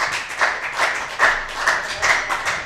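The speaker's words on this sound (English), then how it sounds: "give him a round of applause" Sparse clapping from a small comedy club audience, a handful of hands producing uneven, pulsing bursts of claps rather than a full roar.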